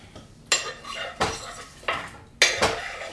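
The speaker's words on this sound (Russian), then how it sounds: "Сюда же добавляем наши нарезанные овощи." Chopped vegetables tip into a frying pan with oil for home-canned fish in tomato sauce, four sharp clattering scrapes of utensil against pan at a steady pace, close and fairly quiet, with no talking.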